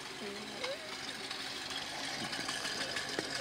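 A 1978 Chevrolet Corvette C3 with a 5.7-litre V8 idling, a steady low rumble under someone talking close by.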